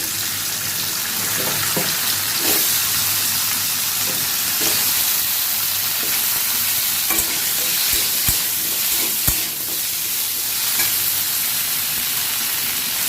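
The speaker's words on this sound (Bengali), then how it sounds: "এইটুকু তেলের মধ্যেই কচুগুলোকে ভেজে নেব" Taro pieces fry in a little oil for a prawn curry, a loud continuous sizzle close up with scattered scraping and clacking as a utensil stirs them in the pan, and no voices.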